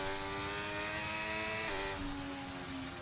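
A race car rounds the final corners of the track in China, its engine whining at high revs with a sharp drop in pitch partway through, then a steady drone, loud and continuous.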